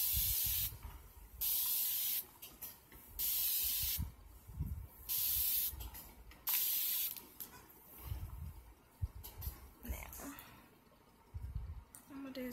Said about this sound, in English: I'm gonna take my spray bottle.